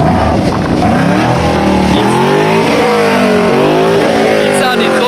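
A Ford Mustang engine revs hard and close, its pitch rising and falling in repeated sweeps over a constant rumble, with voices faintly mixed in underneath.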